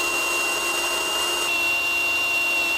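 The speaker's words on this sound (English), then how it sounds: "So we'll drill these out, and then this should just pop right off." A power drill bores out spot welds on a BMW E36 318ti body, giving a steady, loud, continuous whine that holds at one pitch for about three seconds, with no talk.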